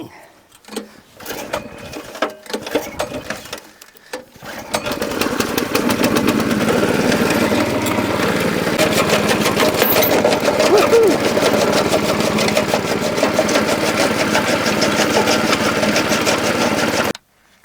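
A small engine driving an ore-processing crusher runs steadily at higher throttle after a brief sputtering start, a loud continuous drone with a buzzing rattle that holds to the end.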